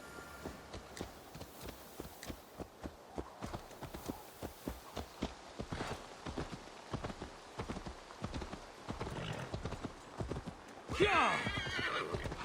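Horse hooves clip-clop at a steady walking rhythm in the Assassin's Creed Valhalla video game, fairly close and moderately loud, with a horse whinny near the end and faint speech in the background.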